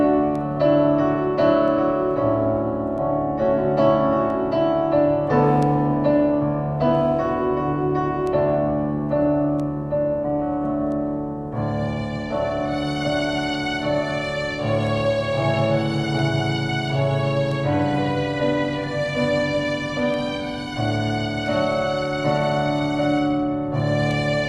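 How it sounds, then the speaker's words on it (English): A keyboard plays an instrumental interlude with layered strings and piano together, a steady, full passage of chords and melody running about twenty-five seconds without talk. "Strings and piano at the same time"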